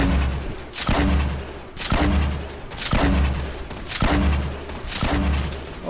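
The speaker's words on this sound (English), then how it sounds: "Oh crap, I'm getting shot from different directions." Gunfire in Fortnite: a rapid series of sharp shots in regular bursts about once a second, loud and close, with heavy low thumps under each volley and no voices.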